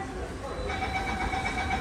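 A Mumbai Metro Line 3 underground train waits at a station with a steady low rumble and a faint electrical whine, while muffled voices murmur nearby.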